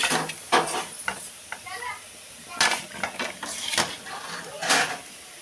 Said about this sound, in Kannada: ಶಾವ್ಗೆ ತುಪ್ಪ ಹಾಕಿ ಇದನ್ನ ಸ್ವಲ್ಪ ಫ್ರೈ ಮಾಡ್ಕೋಬೇಕು